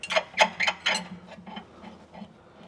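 Ratchet clicking as suspension locking bolts are nipped up on a Subaru rear suspension, several quick bursts of pawl clicks close by, loudest early and tapering into fainter, sparser clicks.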